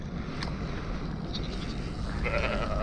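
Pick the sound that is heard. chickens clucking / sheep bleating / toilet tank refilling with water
sheep bleating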